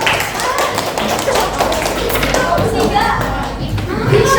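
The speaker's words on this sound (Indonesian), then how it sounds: "Tepuk tangan buat kelompok 3." Schoolchildren in a primary classroom applaud a presenting group, a dense burst of close, loud clapping with children's voices chattering over it throughout.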